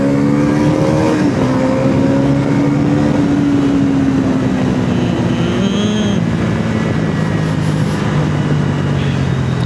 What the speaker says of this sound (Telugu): టైర్ వెనకలది థ్రాటిల్ ఇవ్వగానే ఇట్లా జరుగుతుంది. ట్రాక్షన్ ఆన్ ఉన్నా సరే జరుగుతుంది.